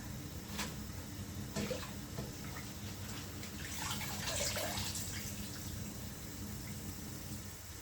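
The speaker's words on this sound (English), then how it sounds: "So getting the spinach already out of the water." Wet spinach is lifted from a basin of water with gentle splashes, drips and trickling, faint and close, a louder swell of pouring water in the middle.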